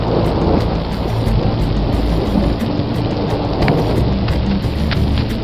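Steady rain falling in Kalpa in the Himalayas under overcast skies, a dense continuous hiss of drops with low rumbling underneath, loud and close throughout.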